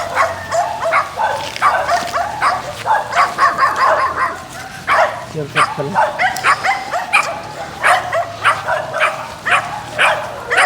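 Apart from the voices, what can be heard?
dogs barking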